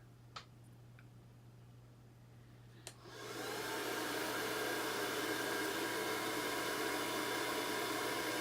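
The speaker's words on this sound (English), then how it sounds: "We're going to hit it with the blow dryer." A blow dryer switches on about three seconds in and runs steadily with a loud, broad whoosh; a couple of faint clicks come before it starts.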